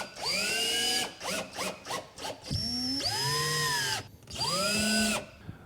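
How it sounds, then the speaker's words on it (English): A cordless power drill drives screws through boat cleats into a fiberglass deck, close whining bursts that rise and slow, with short stuttering pulses between longer runs. "I'm going to screw my cleats down"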